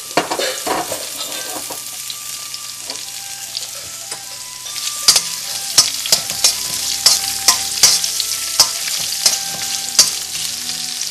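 Onions sauté with spices in a hot pan for Indian-style vegetable noodles, a loud close sizzle broken by frequent sharp clicks and scrapes of a spoon stirring against the pan, with no voices.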